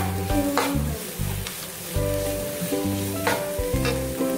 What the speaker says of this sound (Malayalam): ഇത് നല്ലോണം മൂപ്പിച്ചെടുക്കുക.